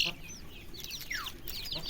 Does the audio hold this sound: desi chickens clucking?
yes